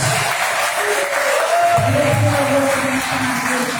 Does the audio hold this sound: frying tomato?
no